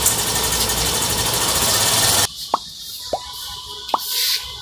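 A Hero Ignitor Xtec 125 motorcycle engine runs with a loud, steady mechanical rattle for about two seconds, then cuts out, leaving a few sharp clicks and a quieter background.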